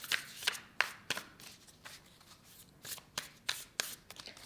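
Tarot cards shuffled close up, a quiet series of crisp riffles and taps in an uneven rhythm, about eight distinct bursts with no talking.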